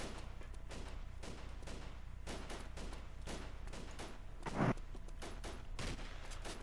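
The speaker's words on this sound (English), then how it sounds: "Looks like they're shooting the crane" Gunfire in the Arma 2 military game rattles in quick, uneven bursts at a crane, a string of sharp shots with one louder crack, moderately distant.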